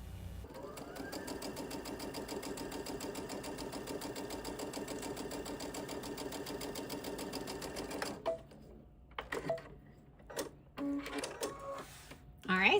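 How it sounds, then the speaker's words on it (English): A home sewing machine stitches quilt block fabric pieces together, running in a steady, fast mechanical chatter for about eight seconds before stopping, followed by fabric handling and a few soft clicks. "So let's jump over to my sewing machine and go ahead and start piecing them together."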